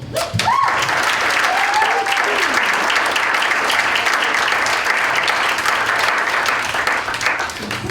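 A hall crowd gives a loud, sustained round of applause for a town's first state championship team, dense clapping throughout with a brief cheer-like voice near the start.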